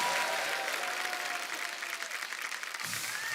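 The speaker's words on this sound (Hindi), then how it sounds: "सबसे स्वीटेस्ट सुपरस्टार के लिए जोरदार ताली हो जाए।" A studio audience at a Hindi comedy talk show applauds steadily, a dense wash of clapping that holds at an even level throughout.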